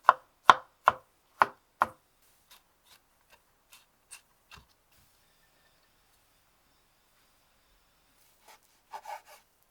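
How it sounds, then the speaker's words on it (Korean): Knife chopping green onion and garlic finely on a board: five loud, evenly spaced chops, then a scatter of faint light taps, and a few soft scraping knocks near the end. "크림 소스의 베이스가 되는 파와 마늘은 잘게 다져준다."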